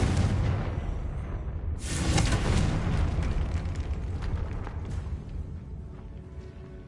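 Blast from the Confringo spell in Hogwarts Legacy: a loud explosive burst that swells into a roaring, crackling boom before fading into rumbling debris, with no talk over it.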